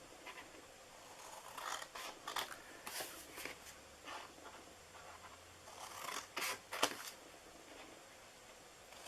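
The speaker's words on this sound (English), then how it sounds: "So we are going to cut down those lines just like that." Scissors cut along marked lines on a paper Christmas tree treat box, giving a series of close, quiet, crisp snips and slicing strokes in irregular bursts, with no talking.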